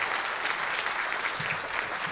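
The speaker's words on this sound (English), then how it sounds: "please give them a round of applause" An audience at a summit session claps for the volunteers, a dense, even patter of many hands held at a fairly soft, distant level throughout.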